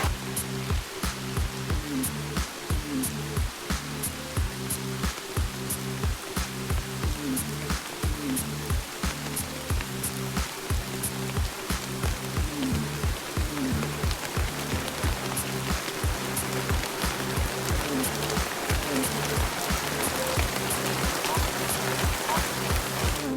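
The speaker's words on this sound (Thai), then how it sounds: "ฝนก็ตกจนได้" Steady rain falling outdoors in Raja Ampat, Indonesia, a constant dense patter with rhythmic heavier drips repeating throughout, loud and even with no talk.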